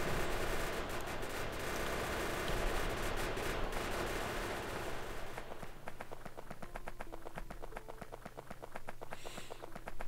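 Turret gunfire in the factory-building game Factorio, a dense rapid stream of clicky shots that later turns into distinct fast repeated bursts, loud and continuous throughout.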